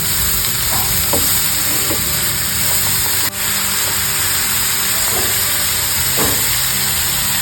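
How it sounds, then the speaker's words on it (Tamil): Beetroot stir-fried with onions in a pan gives a steady, loud frying sizzle, with occasional spoon scrapes and clinks as it is mixed. "இப்போ பீட்ரூட்டு சேர்த்துக்கணும். நல்லா மிக்ஸ் பண்ணிக்கணும்."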